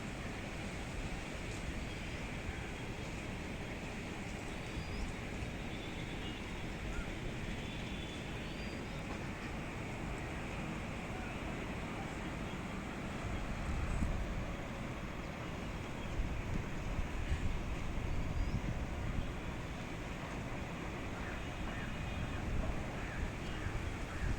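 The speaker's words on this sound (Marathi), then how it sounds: "किती जोरात वारा सुटला" Strong wind gusts through trees during unseasonal rain, a continuous broad roar with turbulent buffeting that swells louder midway, steady and enveloping.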